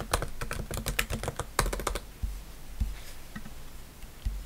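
A password is typed on a MacBook keyboard: quick, light key clicks in a fast burst, then a few scattered taps, close and fairly quiet with no talking.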